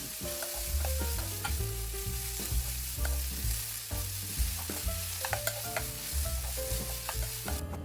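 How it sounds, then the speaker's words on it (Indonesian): Carrots, garlic and salt sizzle steadily in hot oil in a pan, with repeated clinks and scrapes of stirring over the continuous frying hiss; nobody speaks. "Tuang sedikit minyak, kemudian masukkan wortel, bawang putih, dan juga garam. Tumis wortel hingga layu."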